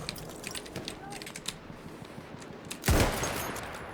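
Gunfire in the shooter game Battlefield 1: a dense, noisy patter of shots sits under the scene before one loud, close blast hits near the end and rings out.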